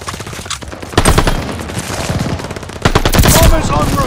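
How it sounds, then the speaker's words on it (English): Call of Duty: Vanguard strafing run from an aircraft: loud, close bursts of rapid machine-gun fire in two surging waves, dense crackling impacts throughout with no speech. "Strafing run approved on your order."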